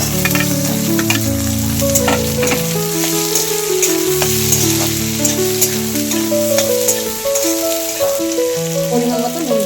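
Chopped onions fry in a pan with a loud, continuous sizzle up close, while a melodic tune plays underneath.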